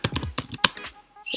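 Quick clattering keystrokes on a computer keyboard, a rapid burst of close, crisp clicks that slows into a few scattered taps.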